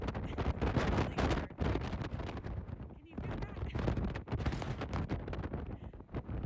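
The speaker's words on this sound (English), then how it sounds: "I think the wind is like falling down the mountain. It's crazy intense." Intense wind blows down a mountainside on the Pacific Crest Trail near Cabazon, a loud, continuous roar buffeting the microphone, with talk mixed in.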